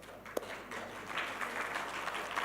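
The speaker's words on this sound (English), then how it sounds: "please give them another round of applause." An audience at a news forum gives award recipients a round of applause, a fairly soft, diffuse clapping that swells slightly partway through after a brief sharp knock near the start.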